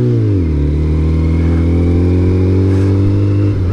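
A Kawasaki ZZR600 motorcycle engine roars loud and close while accelerating on the road, its pitch dipping at a gear change and then holding a strong, steady drone.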